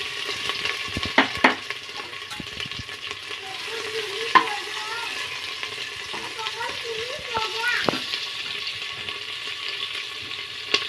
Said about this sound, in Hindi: ये सब जब अच्छे से मिक्स हो जाएगा अब इसको अच्छे से चला लेती।